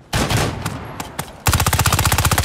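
Loud close gunfire in the tactical shooter Ground Branch: a few sharp single shots, then a rapid sustained automatic burst at a steady fast rhythm.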